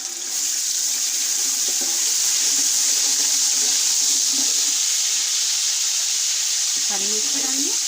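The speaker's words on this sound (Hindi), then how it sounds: "ये देखिए गरम मसाला हल्का सा फ्राई करा।" Whole garam masala (cloves, cinnamon, cumin seeds, green and black cardamom, star anise) frying lightly in a pan, giving a steady broadband sizzle throughout with faint voice-like sounds underneath near the end.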